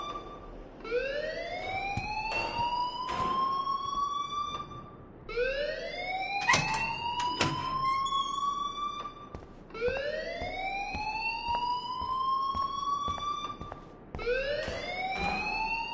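An electronic alarm in the video game Life is Strange wails in repeated rising sweeps, about four long loud cycles with brief gaps between, sounding alone and close.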